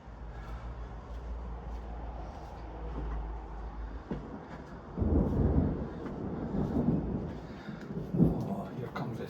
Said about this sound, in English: Oh, here comes the thunder, here comes the thunder.